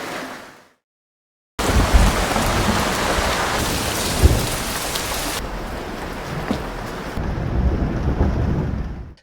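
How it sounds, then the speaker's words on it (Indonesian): Heavy rain pours in a scene from the film A Quiet Place: Day One, a loud dense roar of rainfall with low rumbling thunder beneath, following a short quiet gap at the start. "mumpung masih hujan deras"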